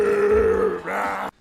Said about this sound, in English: Literally just doing a big burp.